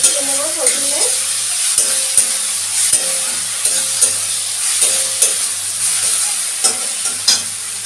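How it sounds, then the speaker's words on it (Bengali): Garlic sautéing with onion in a hot pan, a steady close sizzle broken by regular scraping stirs of a spatula, with a faint tonal hum underneath. "এবারে পেঁয়াজের সাথে রসুনটা আমি ভালো করে কষিয়ে নেব।"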